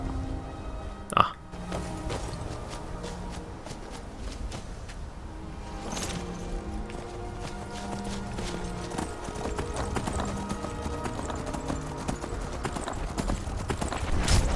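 Horse hooves clip-clop steadily in Skyrim while the rider searches for the mount near Whiterun, a continuous trotting rhythm running the whole stretch, with a brief sharp whinny-like burst early on and faint game ambience underneath.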